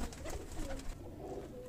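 Soft, low cooing from a golden pigeon, a couple of rounded murmuring notes close by over faint background noise.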